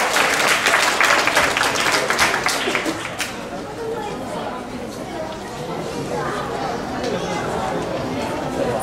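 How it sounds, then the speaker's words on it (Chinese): Audience applause at a Christmas party: a dense burst of clapping from a crowd fills the first few seconds, then fades into murmuring chatter and a voice over the room. "请掌声鼓励"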